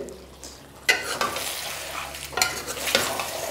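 Stirring Bihari-style chicken masala, made without tomato or yogurt, in a pan as the chicken releases its water: a few distinct spoon scrapes over a steady close sizzle, with no voices.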